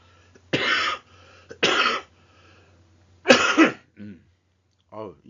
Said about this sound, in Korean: 제가 뭐 기침 방송을 하는 것 같습니다